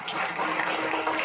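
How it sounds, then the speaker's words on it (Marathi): An audience at a devotional gathering marking a saint's death anniversary claps in dense, steady applause throughout. "टाळ्या वाजवा सर्व मंडळी"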